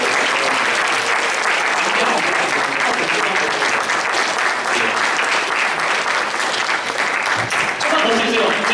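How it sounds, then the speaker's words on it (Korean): A church youth congregation in Auckland applauds warmly, dense sustained clapping filling the room for several seconds with voices mixed in underneath. "좀 뜨거운 박수, 위로의 박수 한번"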